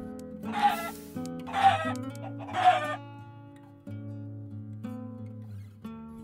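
Minecraft chickens cluck in three short bursts over a looping background music track, with quieter pauses between the clucks.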